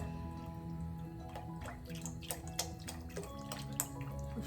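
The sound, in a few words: chicken bone broth poured into soup pot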